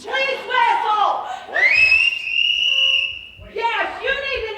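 A person whistles one sustained rising tone lasting over a second, with voices talking before and after it.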